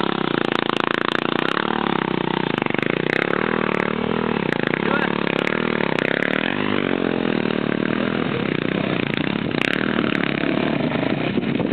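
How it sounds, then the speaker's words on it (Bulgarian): A motorcycle engine runs loud and steady, being pulled along by six people, with the pitch shifting slightly as it labors, while several people shout and talk over it. "6 човека дърпат мотора."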